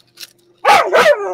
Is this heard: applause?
no